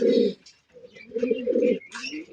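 Pigeons at a Bangladeshi pigeon seller's farm give several soft, throaty coos in short bursts with brief pauses, close by and moderately loud, with no talking.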